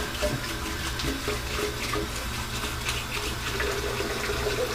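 Tap water running steadily into a sink while a face is rinsed between shaving passes, a continuous close splashing gush with no talk.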